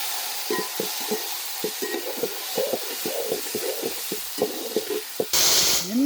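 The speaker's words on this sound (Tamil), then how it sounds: "இறக்கி எண்ணெயிலே வதக்கிக்கிறோம்" Mushrooms and cauliflower sauté in oil over medium heat for a Chinese-style gravy, with a soft sizzle under repeated scraping stirs of a spoon against the pan, close up.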